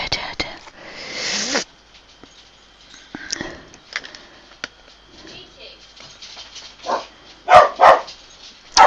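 A pet dog named Alfie at home, giving a few scattered barks and whimpers mixed with loud bumps and rustling, partly under nearby talking.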